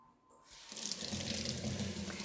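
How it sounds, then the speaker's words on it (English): Hands washed under a running kitchen sink tap in a baking setting, a steady broadband rush of water starting after a half-second of quiet and continuing close and loud to the end. "All right, going to do a quick hand wash."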